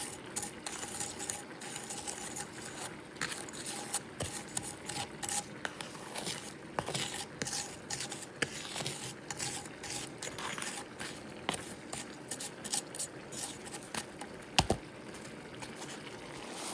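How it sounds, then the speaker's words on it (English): Ground beef taco filling being mixed in a pan, heard as a steady run of soft scraping and clicking from a utensil against the pan, moderately quiet and continuous with no talking. "Go ahead and mix everything together."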